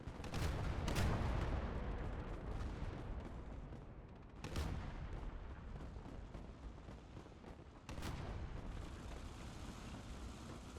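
Artillery fire in a Warhammer 40K battle game booms in several heavy blasts spaced a few seconds apart, the loudest early on, over a constant low battlefield rumble.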